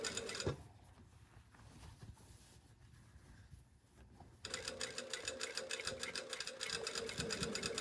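Close, steady rapid whirr of a sewing machine stay stitching a garment collar, starting midway after a quiet stretch of faint handling noise.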